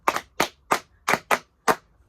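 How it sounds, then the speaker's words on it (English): Six sharp claps from a group, evenly paced with a short pause before the last, crisp and close with no voices. "it's a way of clapping"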